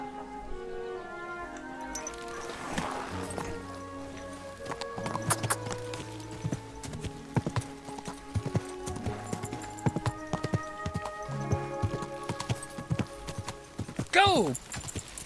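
Rhythmic clip-clop of hooves with game music and sound effects in Kingdom Come: Deliverance 2, a horse neighing near the end, all fairly loud and close.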